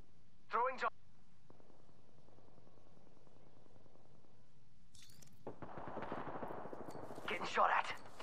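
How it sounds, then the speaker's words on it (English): Gunfire in the video game Apex Legends comes in short bursts, with a sharp early shot followed later by heavier sustained firing that builds toward the end amid game noise. "Getting shot at."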